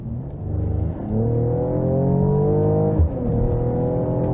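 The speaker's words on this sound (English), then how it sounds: "we can accelerate once again, exhaust set to powerful, and from 50 kilometers" An SUV coupé accelerating hard from 50 km/h with its exhaust set to powerful, a rising engine and exhaust drone that climbs steadily in pitch, dips briefly at a gear change, then keeps pulling, heard from inside the car.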